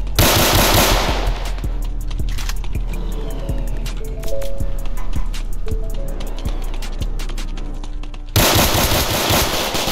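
Rapid gunfire from the Roblox game South Bronx The Trenches crackles through, with dense bursts at the start and end and scattered sharp shots between them.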